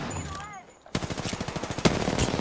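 Sustained automatic weapon fire in the Apex Legends battle royale shooter, a steady rapid rhythm of close, loud shots following a brief quieter moment with faint game tones.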